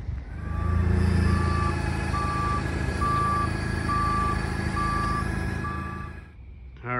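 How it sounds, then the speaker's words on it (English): A forklift reverses to unload a delivery crate, its backup alarm beeping steadily about eight times over a low diesel engine rumble. The sound is loud and close, then cuts off near the end. "get a forklift and get it out of there"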